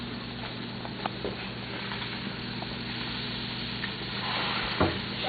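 Food frying in a pan sizzles steadily throughout, a dense close crackle with occasional stirring clicks and a low hum beneath, no voices.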